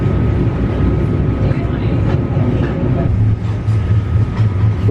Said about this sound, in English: We've been on the train for a number of hours